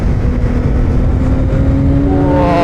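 CFMoto 675 SR-R sport motorcycle engine heard while riding, a loud steady drone with rising harmonic whine as revs climb toward the end, close and continuous under wind noise.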